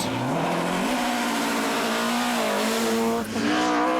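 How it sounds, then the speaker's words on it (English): A Ford Escort Mark II rally car is driven flat out on Donegal stages, its engine screaming loudly and close as the revs climb, with a brief dip at a gear change before it howls on. "couldn't resist the lure of driving their home stages flat out in a Mark II Escort"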